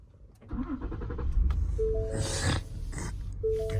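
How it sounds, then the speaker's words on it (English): A Ford Explorer engine cranks and fires up, settling into a low rumbling idle with a brief whine from the starter, heard close and alone with no talking. "So I'm gonna start the car."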